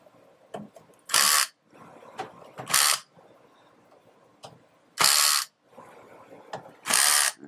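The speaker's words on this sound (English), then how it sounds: "with all the screws started, we just use the power screwdriver and" A power screwdriver drives screws into a generator monitoring controller on a Generac panel in four short, loud whirring bursts. Faint clicks and handling noises fill the gaps between the bursts.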